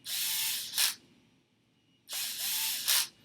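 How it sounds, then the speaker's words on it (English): Ryobi cordless drill slipping at its clutch: two bursts of rapid, loud ratcheting clicks with the motor whirring, separated by a short pause, close up. "that's not me stripping screws, by the way, that's the clutch on this"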